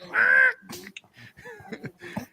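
A man imitates a parrot's loud, high-pitched squawk in one harsh burst, then keeps talking in a normal voice right after.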